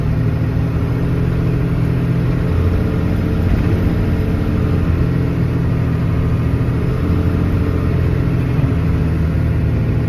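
A 1996 Ford F800 truck's 5.9 Cummins diesel engine runs at a steady idle with the PTO engaged to drive an air compressor, a close, constant low rumble with no voices and no change in pace.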